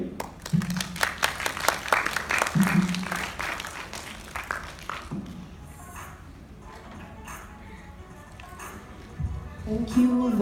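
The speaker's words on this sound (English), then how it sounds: "Another round of applause for Dr. Rose." Audience applause at an education conference after a keynote speech: a dense burst of clapping for about five seconds that fades out, followed by a voice speaking over the room.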